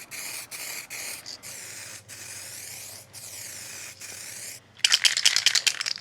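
Rattle-can spray paint laid on as a third coat over a part from a 1980 Suzuki GS450 motorcycle: long, steady close hisses broken by short pauses, then a burst of fast metallic rattling as the can is shaken.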